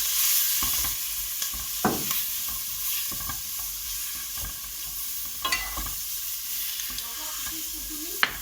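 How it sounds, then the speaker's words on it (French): Thinly sliced onions fry in a pan with a constant close sizzle, while a utensil stirs them with scattered scrapes and knocks. "On va maintenant mettre les oignons que l'on aura bien émincés. Voilà, on remue bien tout ça."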